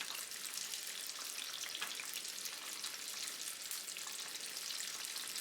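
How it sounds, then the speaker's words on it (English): Chicken fingers frying in hot oil, a steady, even crackling sizzle that holds throughout at low level, with no talking. "So I'm going to keep on frying here till they're all fried up."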